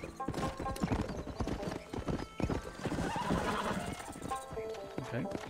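In the Red Dead Redemption video game, a horse's hooves clip-clop rhythmically and a whinny rises among them, with a person talking over the game sounds.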